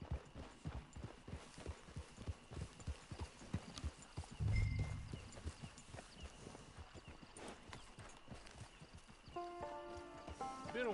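Horse hooves clip-clop steadily throughout in Red Dead Redemption 2 Online, arriving at a camp, with a brief snort or whinny near the middle and game music rising toward the end.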